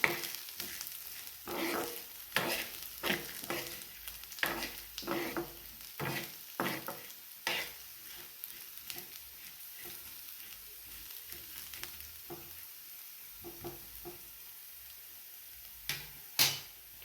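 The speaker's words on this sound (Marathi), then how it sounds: "आता हे सर्व असं मिक्स करून घ्या आणि आणखीन याला थोडंसं म्हणजे भाजून घ्या" Moth beans and sesame seeds dry-roasting in a pan give a soft, crackly sizzle, with intermittent stirring scrapes and taps that are close but quiet, thinning out toward the end before a couple of sharper knocks.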